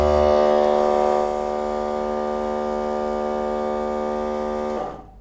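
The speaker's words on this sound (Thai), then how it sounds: "ปั๊มน้ำทำงานแล้วนะครับ" A GOOD PUMPs 12V solar-powered water pump runs as a steady, close electric hum with tonal whine, holding evenly for about five seconds before cutting off.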